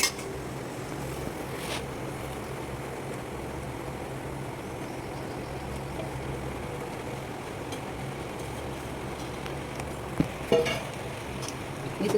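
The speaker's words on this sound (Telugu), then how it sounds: "వేసేసుకొని బాగా కలుపుకోవాలి" Boondi being folded into thick sugar syrup for motichoor laddu, a steady low stirring and scraping texture running under a constant broad rumble, with a brief sharp clink near the end.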